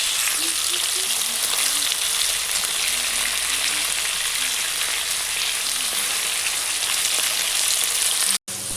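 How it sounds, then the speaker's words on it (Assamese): Fish fry in hot oil with a loud, steady sizzle and crackle that holds throughout, close up and alone, cutting out briefly near the end. "এয়া মাছখিনি অকণমান ফ্ৰাই কৰি লৈছোঁ।"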